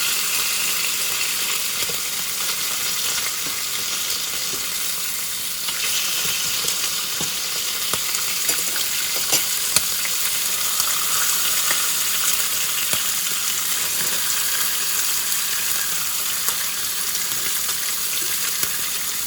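Bacon fries in a pan for a bacon, egg and cheese sandwich, a loud, continuous crackling sizzle with scattered pops, steady and close throughout with no talking.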